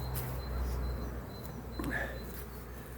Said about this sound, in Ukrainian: бджоли несуть обніжку